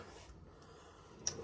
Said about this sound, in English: and let's look at this drawer